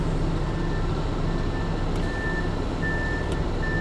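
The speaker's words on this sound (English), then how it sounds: "this guy here's got a backup beeper" A truck's backup beeper sounds while it reverses near a parking area, a few faint, evenly spaced tones over steady traffic and engine rumble.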